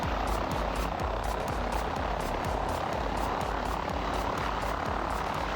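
Steady, loud aircraft engine drone from the FlightGear flight simulator, a continuous throbbing roar with faint periodic pulses running throughout, no speech over it.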